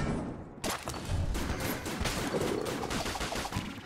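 A bait launcher in the video game Enter the Gungeon fires in a dense, continuous volley of rapid shots and impacts, loud and busy for several seconds with no speech over it.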